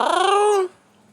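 A single short cat meow, clear and close, rising slightly before cutting off abruptly, followed by quiet.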